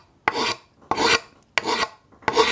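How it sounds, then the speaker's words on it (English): A rasp files down a hickory wood handle in four slow, evenly spaced rough strokes, each a close, scraping rasp followed by a short pause. "I'm going to use a rasp. Okay, so I just want to slowly start taking some wood down."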